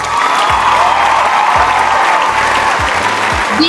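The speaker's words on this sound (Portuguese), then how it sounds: "Agora eu vou colocar efeito de palmas, umas palminhas" Canned applause sound effect on a podcast, a loud, continuous crowd clapping with a few cheers, played over faint low thumps and background tones.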